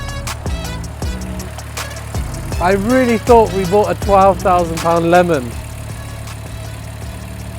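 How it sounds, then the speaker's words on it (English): An Audi RS3 engine idles with a low steady rumble while a person talks over it near the microphone. "That engine sounds sweet."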